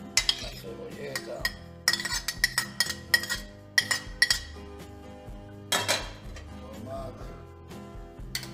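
Chopped cucumber and spring onion being mixed in a bowl for an octopus pipirrana, giving repeated close clinks and scrapes of a utensil against the bowl in an uneven stirring rhythm.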